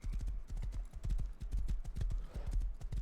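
Horse hooves clip-clopping steadily in the survival game Rust, a brisk, evenly spaced run of close, loud hoofbeats lasting the whole stretch with no talk over it.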